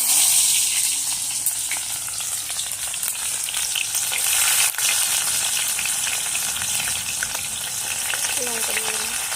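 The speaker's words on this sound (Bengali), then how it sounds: "লঙ্কা দিয়ে দিলাম, টমেটোগুলো দিয়ে দিলাম। এগুলো দিয়ে ভালোভাবে আগে ভেজে নিতে হবে।" Chili and tomatoes frying in a hot pan, a steady loud sizzle with faint stirring scrapes throughout and no talk.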